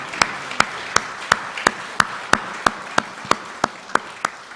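A church congregation claps in unison during a Sunday worship service, about fourteen sharp, evenly spaced claps in a steady rhythm, with no speech over them.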